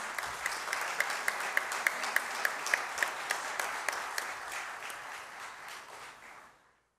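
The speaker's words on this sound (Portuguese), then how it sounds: "Salma de palmas para essa família maravilhosa" Steady applause from an audience at a formal medal ceremony, with a few sharper individual claps standing out in a regular rhythm, then fading away toward the end.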